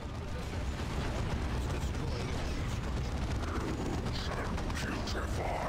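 A dense, continuous roar of area-of-effect explosions from a Dawn of War 2 battle, with heavy low rumble and crackling bursts throughout, mixed with other combat noise.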